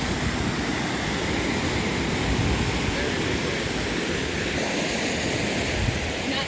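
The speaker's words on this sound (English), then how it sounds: "Those are some good sized waves. That's like Pacific Ocean waves." Big waves on Lake Superior crashing against the Black Rocks, a loud, continuous roar of surf and churning water up close, dense and unbroken from start to finish.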